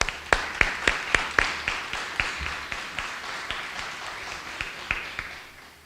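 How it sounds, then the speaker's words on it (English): A small audience gives a short round of sparse applause at a press conference for a baby program launch, with distinct claps tapering off over several seconds. "That deserves a round of applause."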